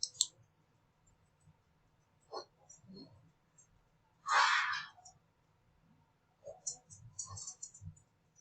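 A few sparse, quiet clicks come from a button being pressed during a battle royale game, separated by long near-silent gaps and one louder burst of other noise.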